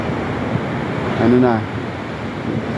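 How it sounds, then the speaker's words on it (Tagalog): Steady roar of strong ocean surf at Nacpan Beach with a brief voice rising over it midway, waves washing continuously in the background. "Malakas-lakas na yung alon."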